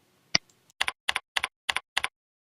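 A new password typed on a computer keyboard: one sharp key tap, a short pause, then five evenly spaced clacking keystrokes in quick rhythm, close and crisp in a quiet room.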